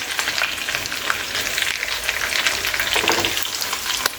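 Chicken drumsticks for drums of heaven fry in a pan after being turned, giving a loud, steady crackling sizzle with scattered pops, close and without talk.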